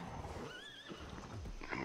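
A horse whinnies in the survival video game ATLAS, a rising and falling neigh lasting about half a second over steady game ambience and background noise.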